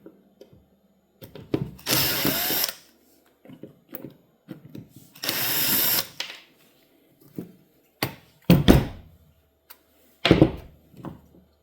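A bearing from an engine or gearbox is spun in short bursts, each a rough whirring rush lasting about a second, separated by quiet gaps with small clicks and handling knocks nearby.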